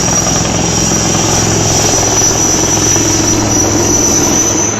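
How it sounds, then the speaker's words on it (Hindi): An Air Force rescue helicopter hovering over a flooded river in Tikamgarh during a rescue of trapped people: a loud, steady rotor and engine roar with a continuous whine, sustained without break. "काफी देर तक हेलीकॉप्टर नदी के ऊपर उड़ता रहा।"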